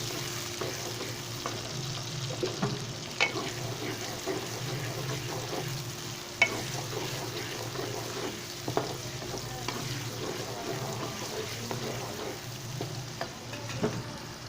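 Onions sizzle steadily as they fry to golden in a hot pan while a utensil scrapes and stirs through them with occasional clinks.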